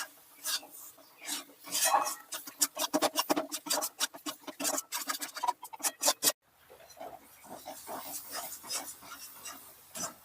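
Ground coriander and other powdered spices being stirred into a pan for chana masala, a busy run of scraping and clinking spoon strokes against the metal, brief pause, then softer continued stirring.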